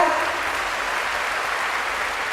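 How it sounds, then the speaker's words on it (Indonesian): An audience at a Dhamma talk claps hard and steadily, a thick, even roar of applause that holds at the same loudness for the whole stretch with no voices over it. "Lebih keras lagi tepuk tangannya"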